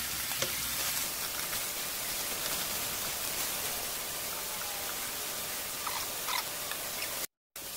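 Oxtails browning in a hot pan, a steady dense sizzle that holds at even loudness throughout with a few faint crackles, close by and with no talking.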